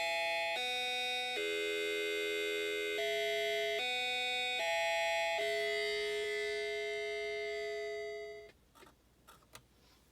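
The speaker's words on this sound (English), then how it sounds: "So I can just do chimes for you real quick." SiraTone siren amplifier, fitted with a UTM, playing chimes: a sequence of clear sustained electronic bell tones stepping between pitches, then fading out, followed by a few faint clicks.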